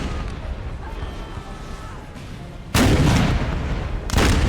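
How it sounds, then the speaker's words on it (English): Cannon artillery fire in Napoleon: Total War, a Napoleonic battle between French and Russian forces: a low background of distant battle rumble, then two loud, sustained booming volleys of cannon fire close by. "Firing cannons to shot."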